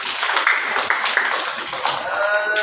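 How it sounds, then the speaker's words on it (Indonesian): Children clapping hands in a classroom after a teacher's prompt during an Islamic religious education lesson, a fairly loud, dense patter of many small hands sustained throughout with faint voices mixed in. "Tepuk tangan."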